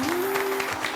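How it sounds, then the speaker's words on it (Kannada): A studio audience on a Kannada television game show claps in a brief, dense burst of applause. A steady tone sounds beneath the clapping. "ಒಂದು ಜೋರ ಚಪ್ಪಾಳೆ"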